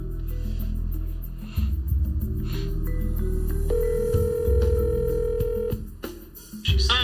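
An outgoing phone call being placed, with a series of steady electronic tones stepping in over a low hum, fairly loud and close, followed by a short burst of handling noise.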